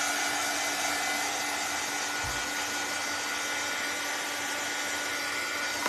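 A hair dryer blows in a steady, loud whoosh up close to dry paint on a festive door hanger. It runs without a break and with no talking.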